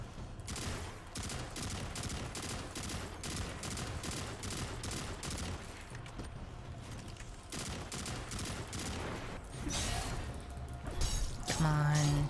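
Rapid, continuous BXR-55 gunfire in Destiny 2 during a mission, dense and steady across the whole stretch with game effects layered in and no clear talk.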